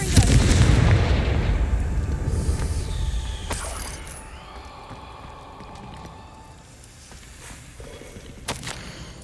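A Confringo blasting spell goes off in Hogwarts Legacy, a loud booming explosion up front that rumbles and fades into quieter clanking and footsteps.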